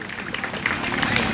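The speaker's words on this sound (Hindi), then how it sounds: "एक बार जोरदार ताली हो जाना चाहिए दोस्तों।" Audience clapping and cheering for a stage poetry recitation, a dense wash of hand claps that swells slightly partway through, steady and close, with no speech over it.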